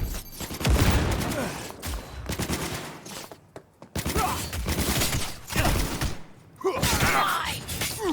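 Frag grenade blasts and rapid gunfire in a Cyberpunk 2077 firefight, with dense bursts, booms and shattering debris repeating throughout, and game character voices shouting over the combat.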